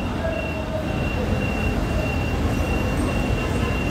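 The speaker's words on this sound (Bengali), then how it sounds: "এই ট্রেন আসতেছে" A train approaches a level crossing with a heavy, continuous rumble of wheels on rails and faint high tonal squeals above it, close and sustained throughout.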